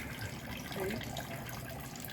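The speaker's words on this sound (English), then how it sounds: "Little fountain, I hear water running." Steady trickling water runs continuously at a moderate level, like a small fountain splashing into a basin.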